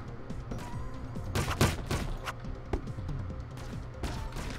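Rapid video-game gunfire crackles in bursts over a dense backdrop of game music and effects, with one louder cluster of shots near the middle; a player reacts in speech between the shots.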